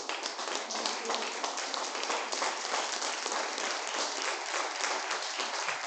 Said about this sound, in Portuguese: Aplauda bem forte o nome dele.